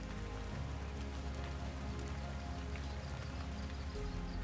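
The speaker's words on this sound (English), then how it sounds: "Rain is a necessity and plays an important role in this ecosystem." Steady rain falling in the Mara grassland ecosystem, a dense, even hiss of drops on surfaces with a low rumble underneath, continuous and moderately loud with no voices.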